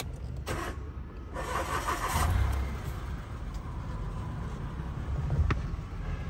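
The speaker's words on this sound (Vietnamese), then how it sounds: "máy nổ rất là êm, vì động cơ rất nhỏ, máy nổ rất là êm." A small 1.2-litre engine in a 2015 car idles smoothly and quietly just after start-up, a steady low hum running through the whole stretch with no one speaking.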